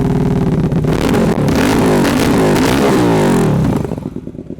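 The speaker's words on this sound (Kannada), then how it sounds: "ಒಂದ್ಸಲ ವಿ ಟ್ವಿನ್ದು ಎಕ್ಸಾಸ್ಟ್ ನೋಟ್ ಕೇಳ್ಬಿಡೋಣ ಬ್ರೋ" A Hyosung GT250R V-twin motorcycle revving hard, its exhaust note rising and falling through several loud, close throttle blips before it drops back toward idle at the end.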